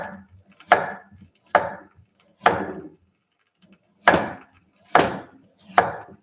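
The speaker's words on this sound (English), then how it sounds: "Maybe I'll finish cutting so I can move over." A knife chops potatoes on a wooden cutting board for Pommes Anna, landing six sharp, close thunks at uneven gaps with brief quiet between them and no talk.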